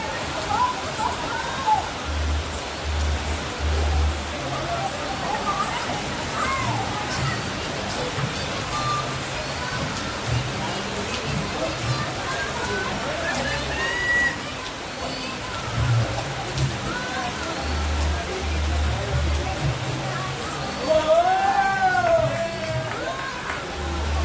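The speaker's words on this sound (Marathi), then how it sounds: "फुल अँड पाऊस चाललेला आहे" Steady rain hisses throughout at a picnic farm, a continuous wash of falling water with scattered voices and occasional background noises mixed in.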